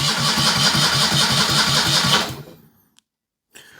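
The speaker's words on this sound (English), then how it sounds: "Give it some cranking." A Citroën 2CV engine cranks and runs with a steady, loud mechanical chugging pulse, then cuts off abruptly into near silence, followed by a brief faint click.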